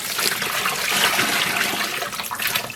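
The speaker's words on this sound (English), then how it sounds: "So I'm gonna fill this back up with water." Tap water rushes into a container during yarn dyeing with acidic water and dry dye powder, a steady, loud hissing gush that never pauses, with no voices.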